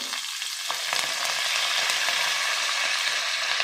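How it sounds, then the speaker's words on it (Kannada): Green chillies, ginger, curry leaves and onions fry in a pan with a steady, loud, continuous sizzle and crackle, with occasional stirring scrapes and no voices. "ಇದೆಲ್ಲ ಸ್ವಲ್ಪ ಫ್ರೈ ಮಾಡ್ಕೊಳ್ಳೋಣ"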